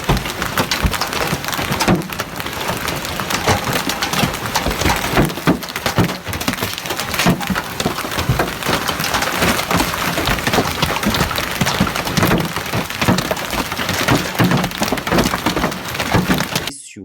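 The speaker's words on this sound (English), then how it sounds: "Driving blindly through an angry hailstorm is the absolute fastest way to ruin a perfectly good" Hail pelts a car during a violent storm, a dense, continuous clatter of hard impacts drumming on the body and glass, loud and close throughout with no voices.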